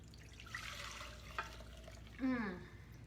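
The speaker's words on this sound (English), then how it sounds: "I'm gonna pour this juice out" Juice from a roasted chicken pours out of the cooker pan with a soft, faint liquid trickle and a short splashing gurgle near the end.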